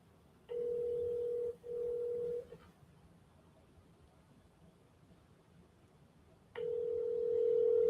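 Ringback tone on a phone call to a property seller: two long, steady tonal pulses, a pause of several seconds, then the tone again, clear and alone.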